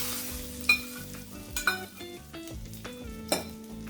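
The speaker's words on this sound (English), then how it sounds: "Give it all a good stir." Rice being stirred in a pan with frying cashew nuts, the spoon scraping and knocking against the pan in a few distinct strokes over a steady sizzle, close up with no voices.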